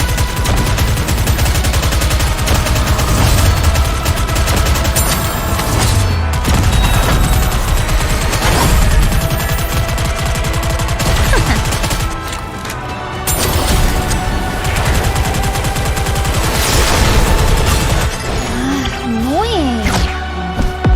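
Rapid gunfire from a shooting battle in the video game NIKKE, dense bursts and volleys crackling almost nonstop over a thick layer of game effects, loud and close, with a brief dip midway.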